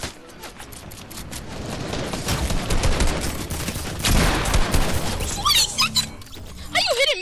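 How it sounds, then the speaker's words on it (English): Shotgun fire during a Fortnite 1v1 match, loud sharp blasts mixed with dense game effects and building sounds, followed by squeaky, warbling tones near the end. "I'm coming in for the 360 shotgun."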